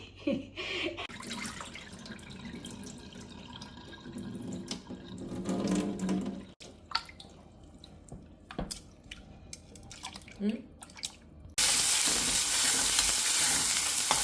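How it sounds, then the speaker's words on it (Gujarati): Onion and garlic tempering in oil starts with scattered stirring clatter and soft spatters, then turns into a loud, steady sizzle over the final seconds, with no voices. "વઘાર કરી દીધો ઓનિયન ગાર્લિક નાખી"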